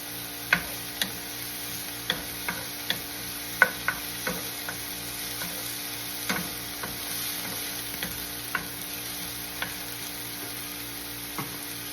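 Green onions sauté in a pan for salt and pepper shrimp, a soft steady sizzle with regular light taps and scrapes of a utensil stirring, close and alone.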